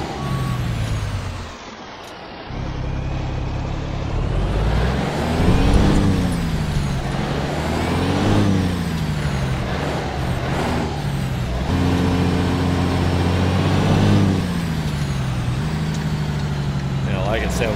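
A heavy Peterbilt 359 truck engine in American Truck Simulator drones and revs through changing gears, its pitch rising and falling steadily, with a hiss of air brakes near the start.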